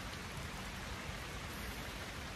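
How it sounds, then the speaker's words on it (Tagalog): Steady rain falls in summer in Poland, an even, faint hiss of drops on surfaces with no breaks and no voices. "And umuulan pa rin."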